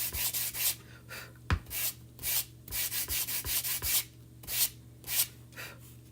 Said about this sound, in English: Let's get that little sanding block here and see what we can do.